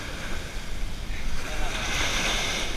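Surf rolling and washing onto an ocean beach while shark fishing in New Jersey, a continuous close rush of breaking water mixed with wind buffeting the microphone.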